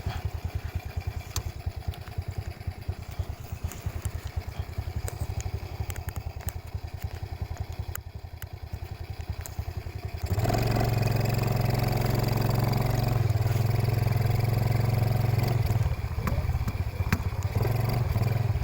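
A habal-habal motorcycle taxi engine runs steadily on a highway, its low rumble growing louder and heavier partway through as the bike accelerates, with wind noise over it.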